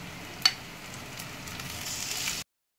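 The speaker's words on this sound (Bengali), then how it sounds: "ম্যারিনেট করে রেখেছিলাম যে চিকেনটা, এবার আমি পেঁয়াজের সাথে দিয়ে দিচ্ছি। এটাকে দিয়ে আমি ভালো করে বেশ কিছুক্ষণ ভেজে নেব।" Marinated chicken tossed into a pan with onions gives a steady, moderate sizzle of frying, with a sharp clatter near the start and the hiss carrying on evenly until it cuts off abruptly.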